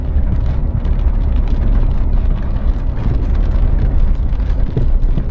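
Rain falling during a drive on a road in Magsaysay, Occidental Mindoro, as a dense, continuous wash of drops and road noise under the low hum of the vehicle, with no talking.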